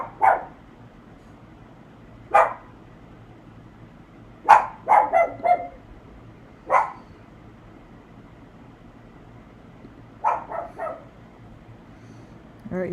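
A dog barks indoors at a moderate distance. Single barks and short bursts of two or three come at irregular intervals over steady low background hiss.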